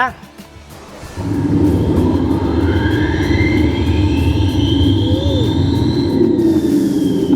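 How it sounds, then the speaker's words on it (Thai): A simulated jet engine sound spools up after a quiet start, building into a loud, sustained roar with rising whine tones layered over a heavy rumble. "เดี๋ยวเดี๋ยวสตาร์ทให้ฟังว่าเป็นยังไงเสียงเครื่องบินเจ็ต"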